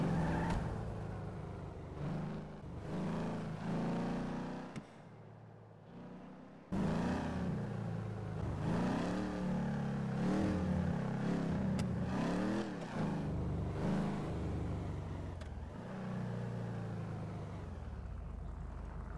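A car is driven in Grand Theft Auto 5, its engine droning and revving continuously up and down. The engine dips briefly, then surges back louder and stays close and steady.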